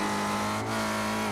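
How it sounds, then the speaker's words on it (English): A race car engine in a sim racing game drones steadily at high revs while the throttle is feathered, with a brief dip in the middle. "he's feathering like mad that throttle"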